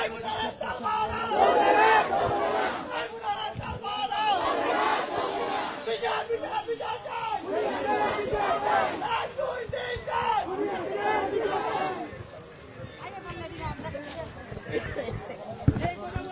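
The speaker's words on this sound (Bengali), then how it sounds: "তারা এই মুহূর্তে মিছিল শুরু করে দিয়েছে" A protest procession crowd chants loudly and continuously, demanding the trial of the Awami League outside the International Crimes Tribunal gate, with many voices in rhythmic unison and a reporter speaking over them.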